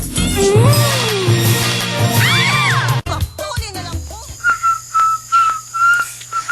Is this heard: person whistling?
yes